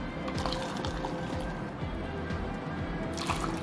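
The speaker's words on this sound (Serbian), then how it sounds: "a ja ću sada sipati u sterilisane flaše i tegle ovaj naš predivan sok od paradajza" Tomato juice pours into sterilized bottles and jars, a steady, close liquid trickle with gurgling and splashy fill sounds running continuously, with no talking.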